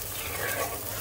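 Cumin powder is stirred into a thin hilsa fish curry with potato and eggplant in a pan, a brief soft bubbling sizzle with light stirring.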